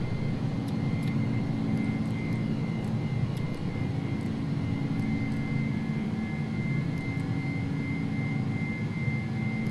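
Airbus A300 jet engines roaring at takeoff in the X-Plane 11 flight simulator, a steady, loud, continuous drone with a sustained whine, heard alone without talk.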